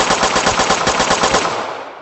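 Rapid automatic gunfire from a VR monkey video game, a loud, dense burst of close shots lasting about two seconds before cutting off abruptly, with no voices.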